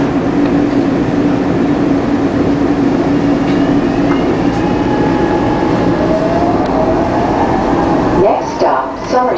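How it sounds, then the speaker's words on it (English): Market-Frankford Line elevated train running on an evening northbound ride from 2nd Street, a loud steady rumble and rail roar heard from inside the car, with faint squeals and tones rising near the end. "Frankfurt train making all stops."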